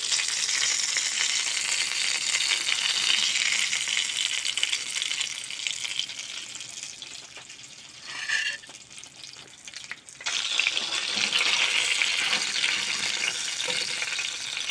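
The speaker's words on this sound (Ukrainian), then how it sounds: "Смажимо, смажимо рибку, скварки." Close, continuous sizzling of bighead carp fillet and head frying in a hot pan, briefly quieting midway before the crackling hiss surges back loud.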